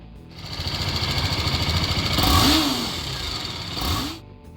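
BMW G310R motorcycle, a single-cylinder bike, idling with a steady buzzing thrum, then revving up twice in quick blips that rise and fall, close and loud with no talk.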